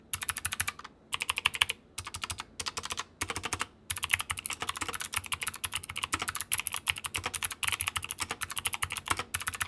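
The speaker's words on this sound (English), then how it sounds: "I got this keyboard in blues and they sound very, very crisp and really, really solid" Rapid, steady typing on a budget 60% mechanical keyboard with Gateron blue switches produces crisp, clicky keystrokes in close, continuous bursts with a few brief pauses.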